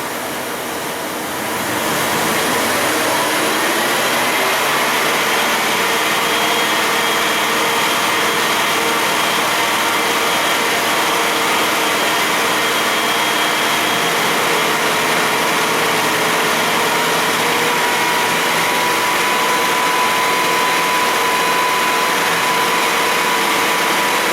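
A Dodge Ram 1500 with a suspected ignition misfire, its engine held at raised throttle in a steady, loud, continuous drone after a brief quieter start; the exact sputtering is not distinct.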